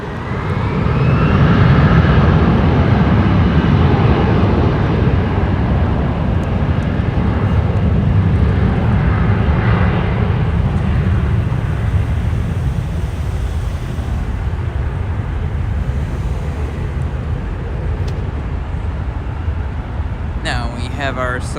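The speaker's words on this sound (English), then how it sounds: "Have our Southwest 737-800 there." A Southwest Boeing 737-800 airliner at Los Angeles International Airport, a loud, steady jet roar that is strongest early and slowly fades while a voice talks over it.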